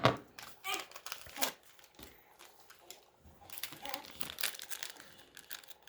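A pocket knife cuts open an MRE pouch with quiet crinkling and rustling of the packaging, coming in short, irregular bursts with brief pauses between them.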